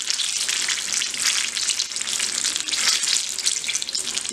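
Crispy pakoras frying in hot oil, a steady dense sizzle with bubbling crackle that swells and eases in waves, close and fairly loud with no voices.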